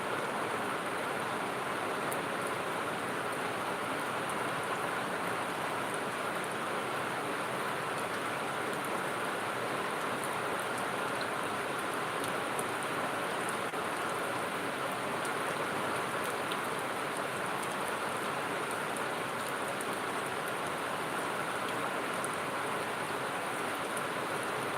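Steady heavy rain pours down without a break, a dense continuous hiss of drops striking surfaces nearby, swelling gradually in intensity, with no voices over it.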